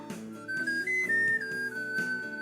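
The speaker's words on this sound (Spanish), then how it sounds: "si lo ha producido una flauta," A flute plays a short melody of sustained, gliding notes that step up and down in pitch, clear and fairly loud with no voices.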